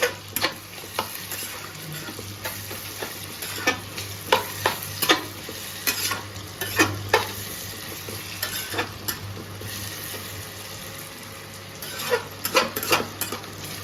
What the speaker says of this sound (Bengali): এবার এর মধ্যে দিয়ে দেবো আলু। আলুগুলো সাথে ফ্রাই করে নেব।